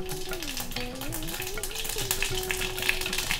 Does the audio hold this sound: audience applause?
no